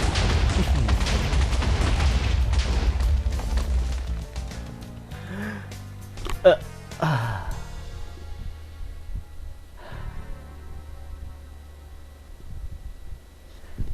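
TNT blowing up a house in Minecraft: a dense stretch of rumbling blasts that thins into scattered booms and crackling debris, then trails off to near quiet with a few soft late pops.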